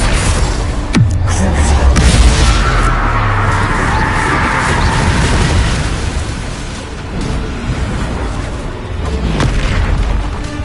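A Bombarda explosion spell blasts in the video game Hogwarts Legacy, a loud booming burst with a low rumbling tail and further crackling impacts in a busy, continuous battle din.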